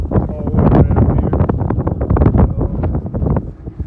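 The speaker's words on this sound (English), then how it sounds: "hang on, it's going to be windy." Outdoor wind buffets the microphone in loud, gusty rumbles that rise and fall continuously, covering the whole scene.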